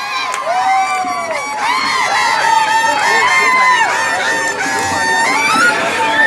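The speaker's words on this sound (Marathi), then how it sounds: "टाळ्या वाजवून स्वागत करा।" A crowd at a village wrestling final in Rethare Budruk cheers with dense shouting, whistles and high, wavering yells that carry on steadily. Clear applause is not evident.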